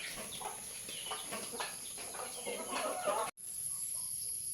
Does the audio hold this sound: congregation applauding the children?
no